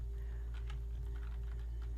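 Quick, light keystrokes of numbers being entered on a computer keyboard, a handful of soft clicks close up over a steady low hum.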